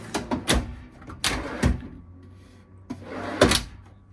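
Kitchen drawers in a small diesel motorhome slide open and shut in a series of sharp wooden knocks and rolling rattles, several close thumps in quick succession followed by a pause and two more.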